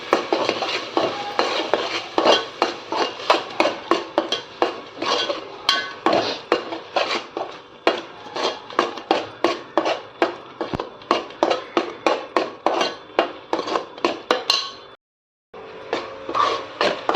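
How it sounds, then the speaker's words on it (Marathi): Masala being sautéed in a pan for Malvani crab curry, with a spoon striking and scraping the pan in a steady clattering rhythm, loud and close, broken by a brief pause near the end. "चांगलं परतून घ्यायचं आहे आपल्याला"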